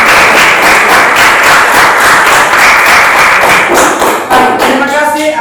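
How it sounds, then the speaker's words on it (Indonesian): A classroom group breaks into steady, loud applause at the end of a student presentation, many hands clapping continuously, with a few shouts and voices rising near the end. "Tepuk tangan."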